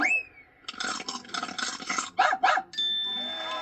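A puppy barks in an audio story, yapping in a quick run of sharp barks and yips with a whine at the start, fairly close and alone.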